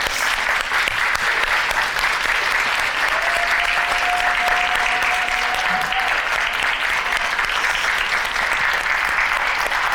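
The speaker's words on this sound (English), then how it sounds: "let's stand up and give ourselves a round of applause" A standing audience at a holiday closing ceremony claps in sustained, dense applause that fills the room for the whole stretch, with a brief tonal note partway through.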